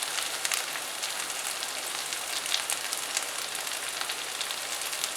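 Chicken roasting in ghee with curry and coriander leaves over a high flame, giving a steady, close, continuous sizzle and crackle with no voices.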